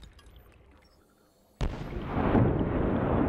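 A lava explosion in the Subnautica video game bursts suddenly after a quiet rumbling stretch, then gives way to a loud, sustained roaring wash of noise.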